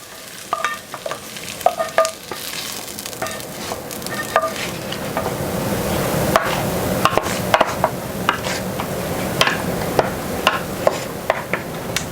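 Onion dropped into a hot pan with pork ham hocks: a steady close sizzle that swells and continues throughout, punctuated by repeated sharp clinks and scrapes of utensils against the pan.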